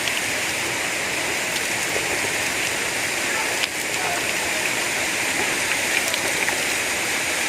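Waterfall and stream on a hillside in Makueni County, Ukambani, Kenya: a steady, close, full rush of falling and flowing water that carries on unbroken and loud throughout, with no voices over it.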